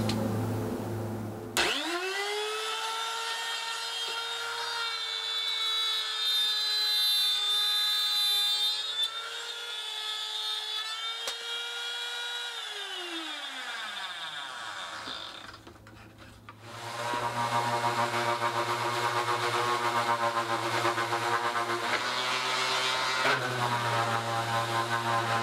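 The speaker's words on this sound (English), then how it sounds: "time to crack out the old katsu and the circle cutting jig and get ourselves a 250mm" A Katsu router cuts a 250mm circle using a circle-cutting jig. Its motor whines loudly and steadily, sagging in pitch as it bites into the workpiece, then spins down before running up again at full speed.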